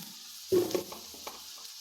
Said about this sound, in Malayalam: ഇളക്കി കൊടുക്കാം തേങ്ങ ഇട്ട് കൊടുക്കാം